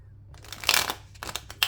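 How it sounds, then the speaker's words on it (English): Cards being shuffled in quick riffling bursts, crisp papery flutters close by, with short pauses between the shuffles. "Okay, and one more shuffle."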